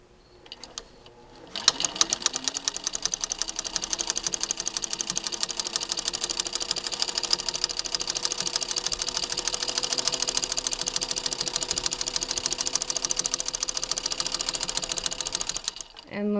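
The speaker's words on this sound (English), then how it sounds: "It does work on a straight stitch machine." A vintage Singer straight-stitch sewing machine, a 15-91 or 99-13 fitted with a flower stitch attachment foot, starts up and runs steadily for about fifteen seconds with a fast, close, even mechanical chatter before stopping.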